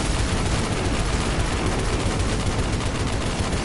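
Rapid, dense gunfire from the video game Destiny 2, a loud continuous barrage of overlapping shots with no pauses and no voices.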